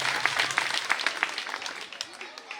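Audience at a girls' primary school award ceremony claps for the girls' performance, a lively burst of applause with a few distinct louder claps early on that gradually thins and fades, with a voice briefly heard.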